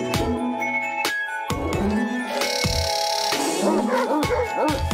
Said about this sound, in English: Oh, where's it barking?